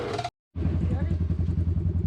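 A dirt bike engine starts after a short silence and settles into a loud, steady, chugging idle close by, with a fast rhythmic pulse.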